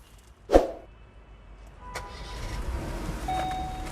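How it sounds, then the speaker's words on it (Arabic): A new-generation Opel Mokka with a small engine starts: a sharp click, then a softer transient and a low, quiet engine hum that builds gently and stays subdued. "ندور كده العربيه مع بعض"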